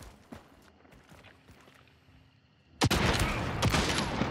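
Rifle fire using slug ammunition in a shooting video game, a few faint sharp shots early, then a sudden loud burst of rapid gunfire that continues to the end.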